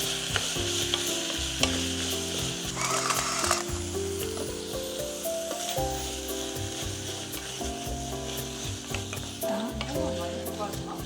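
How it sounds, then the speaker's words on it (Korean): Abalone sautés gently in sesame oil, a continuous close sizzle with occasional stirring scrapes and clicks, while music plays softly underneath. "참기름에다가 전복을 넣고 살살살 익혀주는 거야."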